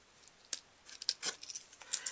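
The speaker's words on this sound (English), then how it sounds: "Alright, we can trim that with our scissors here." Scissors trimming card paper for a Christmas card project: a few faint, brief snips and small paper rustles, close up in a quiet room.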